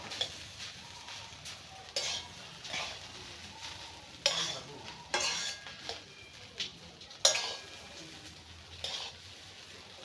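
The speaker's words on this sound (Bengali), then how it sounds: "সব কিছু দিছি, ডিম দিছি, কাঁচামরিচ পেঁয়াজ দিয়ে সব কিছু দিয়ে এখন ধনিয়া পাতা দিব, আর একটু নাইড়ে চেড়ে" Rice fried with egg, green chilli and onion is stirred in a pan, with repeated sharp scrapes and clinks of a spatula over a soft continuous sizzle, close and uneven in rhythm.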